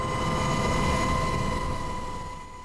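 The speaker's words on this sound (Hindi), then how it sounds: "अब ये हेलीकॉप्टर इन्हें लेकर अम्मान जा रहा है" Helicopter carrying patients out of Gaza toward Amman, a steady droning engine hum with tonal whine, loud and continuous before gradually fading as it moves off.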